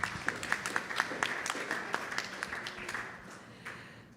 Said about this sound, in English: Yes, you can give her a round of applause too.